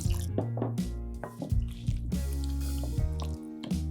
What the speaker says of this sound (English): I'm gonna add a little bit of pasta water here,